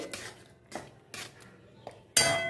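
Malabar spinach simmering with masoor lentils and garlic is stirred in a pan, giving a few separate scraping, clinking strokes of a utensil against metal, with a sharper, louder scrape at the end.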